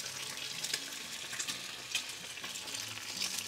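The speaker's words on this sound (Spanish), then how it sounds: "mientras vamos a hacer los huevos estrellados" Eggs fry in a pan for huevos estrellados, a steady close sizzle with faint crackling pops running throughout.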